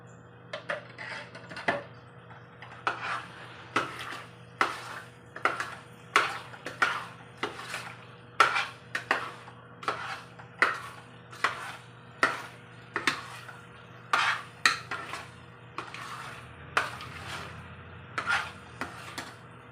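A spoon stirring banana halwa made with nendra bananas and ghee in a pan, giving a steady run of regular clinks and scrapes roughly once a second, close and moderately loud over a low hum.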